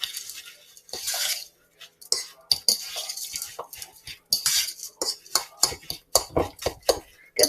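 A spoon stirring oats and mashed banana in a bowl, irregular clinks and scrapes against the bowl in quick bursts, close and fairly loud, with no voices.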